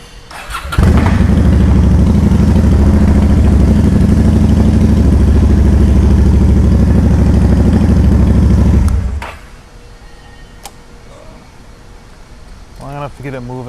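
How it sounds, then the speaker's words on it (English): A Shadow motorcycle engine starts with a clattering crank and catches. It runs loud and steady at close range for about eight seconds, then cuts off abruptly. Quiet room sound and a little faint movement follow. "Alright, I'm gonna start this thing up. Just gonna let it run for a few minutes here."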